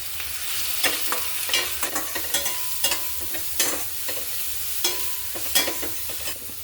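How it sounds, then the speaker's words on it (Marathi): Close, steady sizzling of spice paste frying with chopped onion and cumin in a pan, broken by repeated scraping stirs of a spatula at irregular intervals. "वाटण 1 मिनिटभर परतून घेतले"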